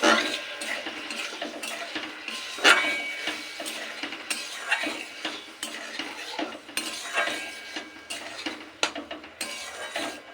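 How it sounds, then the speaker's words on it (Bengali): A spoon stirs soybean sauce gravy in a metal pan for chilli soybean, with close scraping and clinking strokes in an uneven rhythm over a faint sizzle, no talking. "ভালো করে নেড়ে দিয়েছি"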